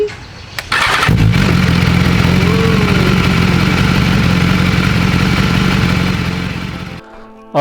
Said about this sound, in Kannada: ಹಿಡ್ಕೊ ಬೈಕ್ ಸ್ಟಾರ್ಟ್ ಕರ